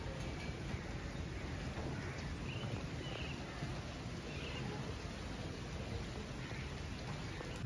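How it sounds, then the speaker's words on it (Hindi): Steady rain falls outdoors, an even hiss of drops continuing throughout at a moderate, distant level. "आज भी बारिश हो रही है."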